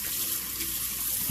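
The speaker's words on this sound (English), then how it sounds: "I'm gonna give it a nice wash with some cold water" Cold tap water pours steadily over salt mackerel being washed in a sink, a constant, even rushing hiss that stays loud and unbroken throughout.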